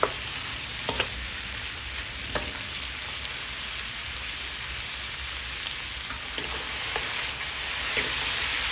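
Mushrooms sizzle and fry steadily in a pan alongside tofu and bean sprouts, a dense continuous crackle with a few sharp stirring clinks near the start and later on.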